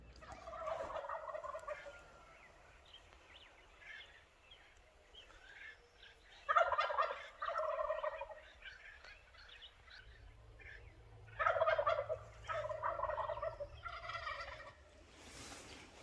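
Wild turkey gobbling during a spring hunt, several separate bursts some seconds apart, moderately distant, over a quiet outdoor background with no talk.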